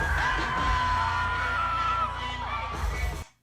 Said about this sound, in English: the most enjoyable videos are the people just losing their minds, bro. You can hear the excitement.